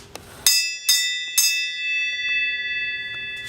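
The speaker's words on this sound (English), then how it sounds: "go ring the bell" A bell rung three times in a garage or shop setting after work on a Chevy truck transmission, each bright metallic strike ringing out with long sustained overtones that hang and slowly fade.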